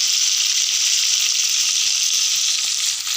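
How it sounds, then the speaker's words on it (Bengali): Tomatoes and chopped garlic fry in hot oil, giving a loud, continuous, even hiss of sizzling throughout, close up and with no talking. "দেখো আমার টমেটোটা মোটামুটি ভাজা হয়ে গেছে।"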